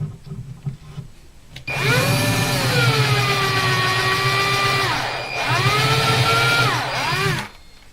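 Dull drill bit grinding out old glue from an acoustic guitar bridge, a close, loud whine that starts after quiet room noise, dips briefly midway, then runs again before cutting off.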